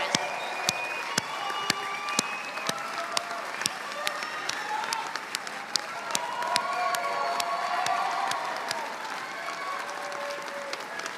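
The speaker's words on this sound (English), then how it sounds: "And please, everybody, give a round of applause." A commencement crowd at a 2022 College of Pharmacy ceremony claps and cheers for supporting family and friends: sustained applause with scattered loud individual claps, whoops and voices mixed in throughout.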